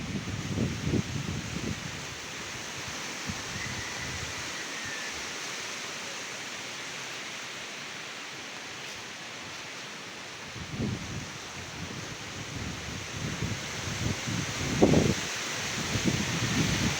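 Wind blows steadily through leaves during a storm, a broad, even rushing hiss that lasts throughout, with a few low gusty rumbles buffeting the microphone now and then.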